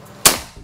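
Predator Ghost Warrior PCP air rifle firing a single shot, a sharp, loud crack that decays quickly into a brief tail, heard alone.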